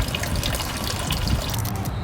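Coolant drains out of a BMW E90, a steady, fairly loud splashing and trickling stream with no talking over it.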